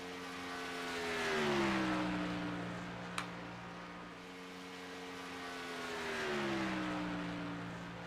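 A race car runs a qualifying lap at the Las Vegas oval, heading down the backstretch toward turn 3. Its steady engine drone swells and fades twice as the car circles at a distance.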